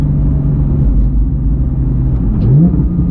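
A 2018 Porsche 911 GT3 with a manual gearbox rumbles loudly from inside the cabin, a steady deep engine drone with a brief rising rev near the end.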